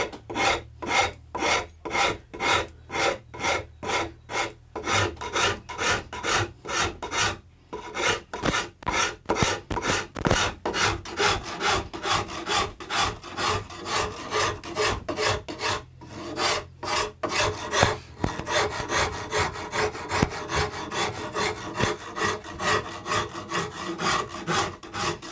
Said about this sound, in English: So I'm literally using the gentle side of the saw rasp.